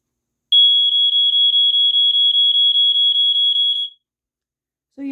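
A Montgomery Ward smoke detector sounds its BRK-style alarm: a loud, steady train of shrill, evenly spaced beeping pulses running for about three and a half seconds, then stopping.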